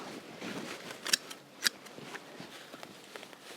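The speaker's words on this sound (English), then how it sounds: "I'll just cut it back" Garden shears snip back a spring-blooming perennial in a cottage garden, two crisp cuts close by amid quiet outdoor rustling.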